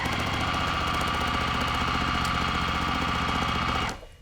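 A sewing machine with a quarter-inch foot chain-pieces quilt squares in one continuous, fast rhythmic run of stitching, loud and close, stopping abruptly just before the end.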